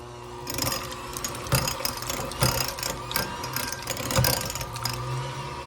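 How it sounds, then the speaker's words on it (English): A hand mixer whirs steadily while creaming sour cream with another ingredient for a bacon ranch cheeseball, its motor hum broken by a few sharper clunks of the beaters against the bowl; no voice is heard. "With my hand mixer, I'm going to mix these two together"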